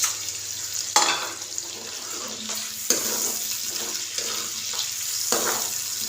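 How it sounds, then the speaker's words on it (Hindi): Whole spices (star anise, cloves, cinnamon, cardamom, black pepper and cumin) sizzle in a cup of hot oil in a kadai, a close, lively crackle with several sharp stirring clinks and scrapes and no voices. "एक कढ़ाई में मैंने ऑयल लिया है, 1 कप ऑयल लिया है और इसमें मैं खड़े मसाले जो हैं वो डालूँगी"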